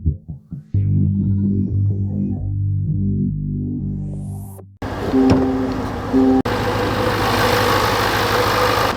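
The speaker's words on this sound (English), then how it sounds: "Under the hood is a supercharged 5-liter V8 that goes through an 8-speed." Supercharged 5-liter V8 in a 2026 Land Rover Defender starting and settling into a loud, steady idle, heard close up with abrupt shifts in tone and level, no talking.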